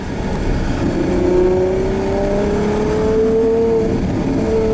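A Pagani Zonda R engine revs hard and rises steadily in pitch, loud and close, with a sustained throaty roar and no talking.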